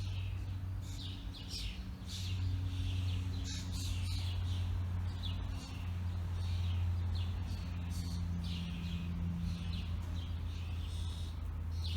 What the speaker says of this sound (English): The birds are so happy here in my garden.